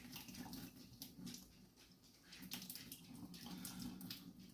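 Water from a pot of boiled sweet potatoes is poured slowly down a sink, a soft gurgling, splashing trickle heard close but faint, with no talking.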